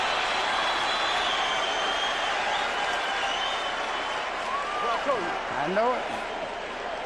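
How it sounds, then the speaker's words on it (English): Boxing arena crowd at a professional fight roaring and cheering after a knockdown, a loud continuous wash of noise with whistles and shouts rising near the end, a commentator's voice briefly over it. "Crowd likes the knockdown, though."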